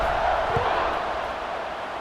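Steady roar of a football stadium crowd at Syracuse, Pitt playing, as the teams line up for kickoff; a dense, continuous wash of distant voices with no single voice standing out.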